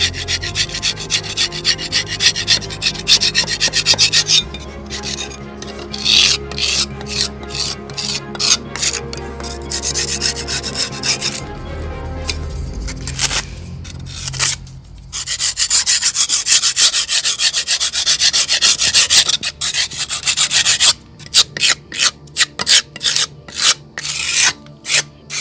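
Close, steady rasping of sanding a dried plaster joint between stone facing blocks, a continuous abrasive rub that breaks into short rhythmic strokes toward the end, loud and with no talk.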